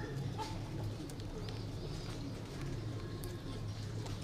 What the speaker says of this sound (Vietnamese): những cặp bồ câu Thái quá tuyệt vời